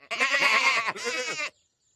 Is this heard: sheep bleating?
yes